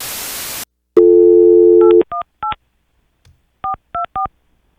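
Touch-tone telephone keypad dialing a number: a burst of static, a held dial tone, then a series of short separate DTMF beeps in quick clusters, loud and clean with no voices.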